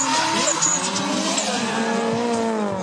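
A drift car at the European Drift Championship at Anglesey Circuit slides with its tyres squealing loudly, a long wavering screech over the engine's note that carries on without a break, close and prominent.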